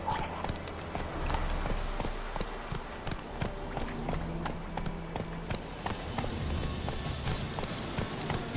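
Roach the horse gallops in The Witcher 3, with steady rhythmic clip-clop hoofbeats running close and clear throughout, over low ambient game sound.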